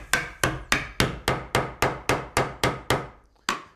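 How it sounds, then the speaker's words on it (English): A hammer taps glued wood pieces together in a cabinetmaking workshop, about eleven sharp, close strikes in an even rhythm with a brief pause before the last blow. "I just nudge them in with a hammer."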